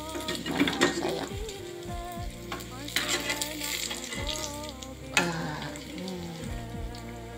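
Food frying in a wok on a stove with no pan stand, the wok rocking as it cooks; a steady sizzle runs under background music, with occasional scraping stirs close by.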